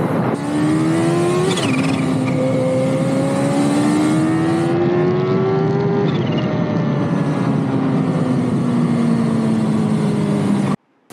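A Kawasaki Ninja H2 motorcycle revs and pulls away on a ride, its loud engine whine climbing in pitch, briefly dropping at a shift, then climbing and easing off before cutting out abruptly near the end.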